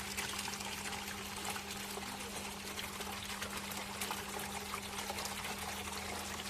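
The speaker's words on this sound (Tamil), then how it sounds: "அடுத்து இதுக்குள்ளே தண்ணி ஊற்ற வேண்டியதான்" Water pours steadily into a guppy fish tank, a continuous close trickling wash with a faint steady hum underneath.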